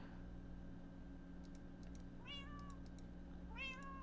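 Two short rising meows from a cat, soft and close, sounding over a low steady hum and faint light tapping like keyboard typing.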